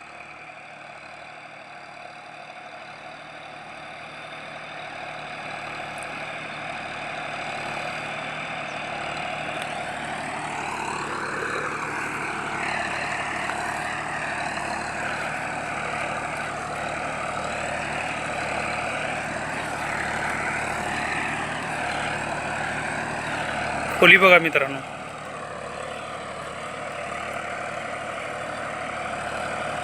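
A John Deere 5405 tractor pulls a Limkan Dubal Palti 4x4 plough in a field, its engine droning steadily, then revving higher and holding. A short metallic clank comes near the end, and someone speaks briefly.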